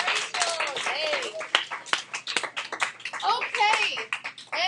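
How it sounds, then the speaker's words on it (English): In a high school algebra classroom, students give a few scattered, sharp claps while kids chatter and cheer over them, fairly close and light. "All right, everybody give Rachel a round of applause."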